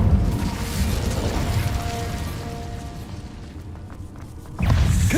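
The Incendio fire spell in a wizard video game gives a dense, rumbling burst of flame with mechanical rattling, fading a little before a fresh loud whoosh near the end.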